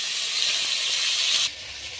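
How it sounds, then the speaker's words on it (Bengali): Fish rubbed with salt and turmeric hits hot oil with a loud, steady broadband hiss that drops suddenly to a quieter sizzle partway through. "এবার মাছগুলো ভেজে নেব।"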